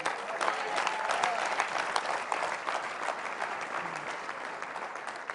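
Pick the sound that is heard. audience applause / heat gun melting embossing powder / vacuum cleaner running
audience applause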